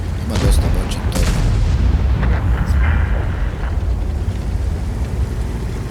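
Big main-gun blasts from a T110E4 tank destroyer in a tank video game, a few heavy booms early on over a constant loud rumbling battle din.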